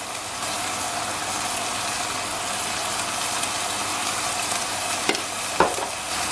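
Food fries in a pan as seasonings go in, a steady close sizzle with a couple of brief clicks and taps near the end, and no voices.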